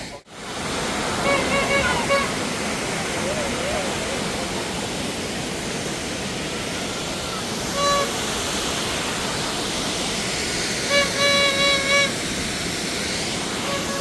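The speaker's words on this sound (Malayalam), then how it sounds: "ഞങ്ങൾ ഈ വെള്ളച്ചാട്ടമൊക്കെ ഒന്ന് ആസ്വദിച്ചിട്ട് വരാം." A waterfall near Kattappana, Kerala roars in a constant, loud rush, with faint voices calling now and then over the noise.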